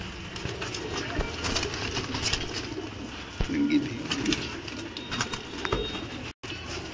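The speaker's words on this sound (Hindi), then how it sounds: "इस वाली लोफ्ट में कबूतर हैं" Low, soft pigeon cooing murmurs steadily through a busy, reverberant pigeon loft in Punjab, with faint rustling and occasional thumps in the background.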